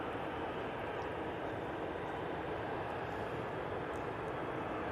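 An EasyJet airliner bound for Sofia at Manchester Airport gives a steady, broad roar of jet engines, continuous and even throughout with no rise or fall, heard from a distance.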